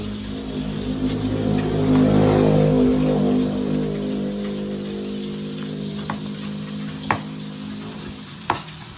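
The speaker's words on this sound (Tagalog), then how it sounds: "si Lugs po pala ay nagpiprito na rin ng isda" Fish frying in a pan: a steady, close crackling sizzle that lasts throughout, with a couple of sharp clicks near the end and no voices.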